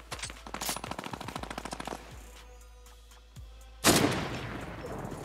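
Rapid bursts of automatic gunfire in Fortnite Battle Royale, a rattling stream of shots, a pause with quieter ambience, then a loud sudden blast.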